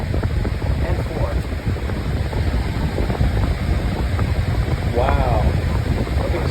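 Lasko Windstorm pedestal fan blasting at speed 4, a loud, extremely noisy constant whoosh of wind against the microphone, with a brief voice breaking through near the end.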